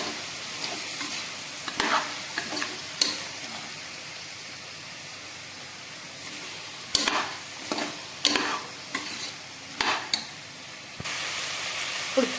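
Potato pieces for veg biryani fry in a pan with a continuous sizzle and steam hiss. Irregular bursts of scraping and stirring come from a spatula, clustered in the latter half.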